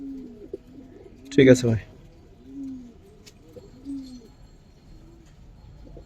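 Pigeons coo in soft, repeated low rolling calls at a coloured pigeon farm in Bangladesh, with a brief burst of nearby noise and someone speaking briefly.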